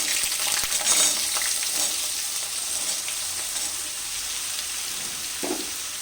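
Potatoes frying in hot oil with popping mustard seeds, a steady close sizzle with scattered crackles and a few stirring scrapes, no talking.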